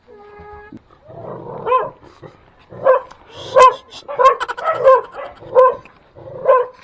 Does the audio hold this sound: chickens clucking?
no